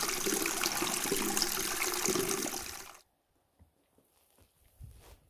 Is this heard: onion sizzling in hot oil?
no